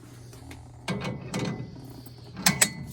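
The cones on an Accu-Turn brake lathe are spun by hand, giving off soft mechanical whirring and clicking with a few brief metallic rattles. The sound is close and fairly quiet.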